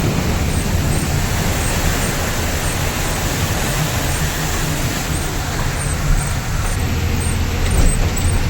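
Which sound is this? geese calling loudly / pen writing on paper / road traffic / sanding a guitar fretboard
road traffic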